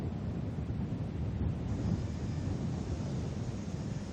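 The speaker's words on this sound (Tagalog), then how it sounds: "Mataas at malakas ng alon sa baybayin at pabugso-bugso na rin ang hangin." Steady roar of gusty typhoon wind on the coast at Baler, Aurora, as high waves pound the shore, a dense continuous rush without speech.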